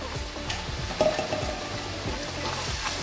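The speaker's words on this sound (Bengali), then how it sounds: "এবার মশলাটাকে খুব ভালো করে কষাবো" Spices with salt, turmeric, green chilli and chilli powder sizzle in a pan for a fish curry, a dense close crackle with occasional scraping strokes as the masala is stirred.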